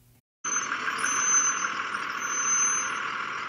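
A big yellow school bus pulls up, heard as a steady broad engine and road rumble with a faint high tone, starting abruptly after a brief silence and holding at a fairly loud, even level.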